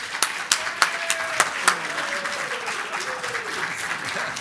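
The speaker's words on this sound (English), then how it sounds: "Let's give a warm round of applause" Audience applause for Wayne Downey, a 2023 Lobo Hall of Fame inductee, opening with several sharp, distinct claps before settling into steady, full clapping from a large crowd.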